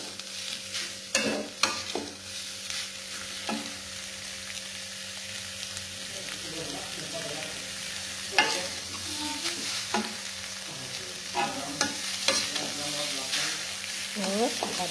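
Very spicy green chili fried rice with beef is stirred and tossed in a pan, with scraping strokes and clanks over a soft continuous sizzle and occasional faint voices.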